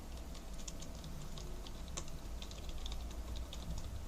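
Fingers type a name on a computer keyboard, producing a quick, continuous patter of soft key clicks close to the microphone with no voice over them.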